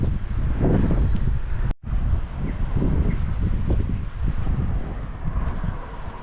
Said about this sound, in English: It's windy too, quite breezy today.